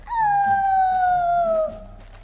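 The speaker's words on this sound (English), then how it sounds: "Did I hear howling?" A single long, mournful dog-like howl rises then slowly falls in pitch, sustained for over a second before tailing off, loud and close with a faint low background hum.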